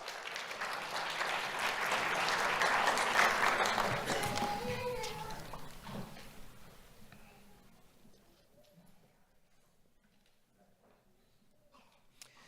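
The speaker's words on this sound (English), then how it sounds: "Let's have a round of applause for Valerie." Applause from an audience at a Do The Right Thing Awards ceremony, honoring a fourth-grade student award recipient; a dense wash of clapping swells over the first few seconds, then thins and fades away by about eight seconds.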